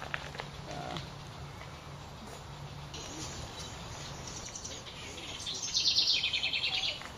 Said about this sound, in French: C'est quoi l'oiseau? Stèle à poitrine blanche.